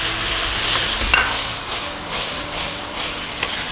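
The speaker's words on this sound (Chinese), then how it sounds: "给少许的盐，来点白糖，再给点生抽，来点醋，大火去翻炒它" Napa cabbage stems stir-fried in a wok over high heat with salt, sugar, soy sauce and vinegar, giving a steady loud sizzle and hiss with repeated scraping stirs of the spatula, no voices.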